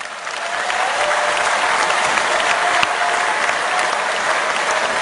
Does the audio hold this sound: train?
no